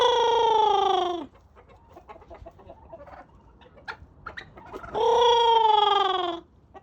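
Domestic turkeys in a flock, including males displaying, give two long, loud harmonic calls, one at the start and another after a few seconds of quiet rustling.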